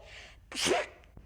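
A single sharp sneeze, a quick breathy intake followed by a loud burst, close and otherwise quiet.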